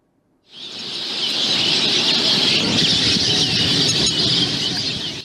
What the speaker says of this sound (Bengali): পাখির কিচিরমিচির শব্দ আর প্রকৃতির মাঝে কিছুটা সময় কাটাতে প্রতিদিন ভিড় করেন